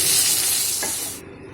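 Flat beans frying lightly in mustard oil in a kadai, a close, loud sizzle with a brief stirring scrape, cutting off abruptly partway through.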